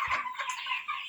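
Chickens on a poultry farm clucking and squawking in a quick burst of overlapping calls, close and fairly loud, no talking.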